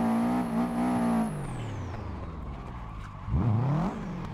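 Car engine in the Assetto Corsa racing game, driving a Subaru from a drift pack while sliding sideways, revving hard then dropping in pitch before climbing again, loud and continuous.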